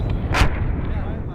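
A 60mm mortar fires once in a single sharp, heavy boom during Afghan National Army training outdoors on a snowy day in Kabul. The blast is followed by a brief rumbling tail.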